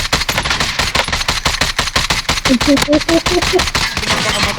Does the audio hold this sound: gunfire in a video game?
yes